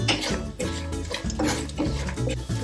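Dry coconut stirred into poha chivda in a cooking pan, with a spoon scraping and clinking against the metal in steady strokes over a continuous low hum in the background.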